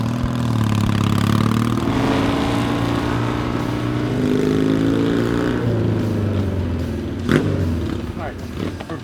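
A Triumph street tracker motorcycle ridden on the road, its engine droning and rising and falling through the gears at steady cruising speed with wind noise, while riders talk over it.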